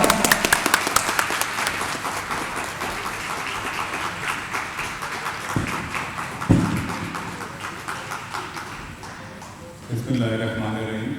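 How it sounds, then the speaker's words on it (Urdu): An audience applauds at a grand iftar party as a guest is invited onto the stage, dense clapping that thins out and fades, with a few sharper claps and a voice coming in at the end. "آپ کی بھرپور تالیوں میں"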